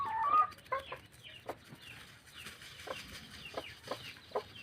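Chickens cluck and crow softly in short, irregular bursts over a quiet background, with no voices.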